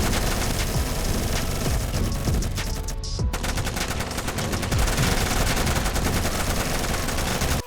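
Rapid automatic gunfire fills the mobile first-person shooter Gun Battle World Shooting, a loud, dense rattle of bursts with a brief pause midway before the firing resumes.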